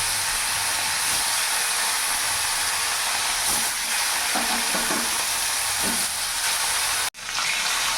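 Rohu fish pieces sizzle in hot mustard oil in a pan, a loud continuous crackling hiss with a brief dip near the end and no talking.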